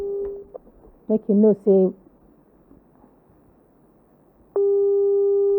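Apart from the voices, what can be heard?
telephone ringing tone while calling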